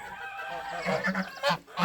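Farmyard geese, a gander and his grey and white mates, give several loud, nasal honks in quick succession, close by and with no talk over them.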